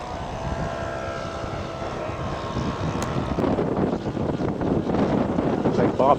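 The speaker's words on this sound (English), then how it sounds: "Beautiful takeoff of the PT-19." Scale model PT-19 airplane taking off at a scale aircraft show, its propeller engine droning steadily and growing louder and nearer amid wind noise on the microphone.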